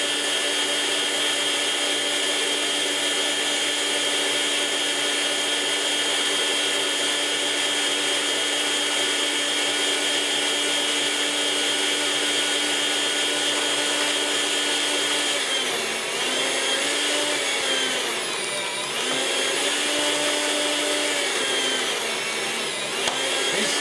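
A continuous high motor whine comes from an electric meat slicer cutting meat for a po boy, steady and loud, with brief pitch dips late on as the blade bites through slices.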